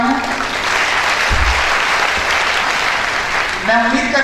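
A loud, dense wash of audience clapping fills a coaching-class gathering in Jodhpur, sustained throughout with a brief voice near the end.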